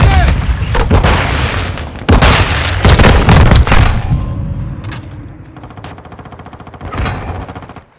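A grenade blast in Call of Duty Modern Warfare II goes off loud and close amid heavy automatic gunfire and booming impacts, with the din easing into scattered shots and one more late burst.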